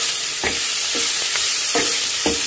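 Onions fry for chutney in a thick pan over high heat, giving a loud, constant sizzle broken by several scraping stirs at irregular intervals, with no voices.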